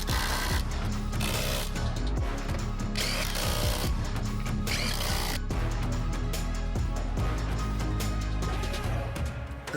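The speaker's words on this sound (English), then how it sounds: "raise everything up and torque down the bolts for the subframe" Power tool whirring and ratcheting in bursts as subframe bolts are torqued down on a VW Scirocco fitted with VR6 AWD conversion and R32 rear suspension, loud and close, mixed with a steady busy background and no talk.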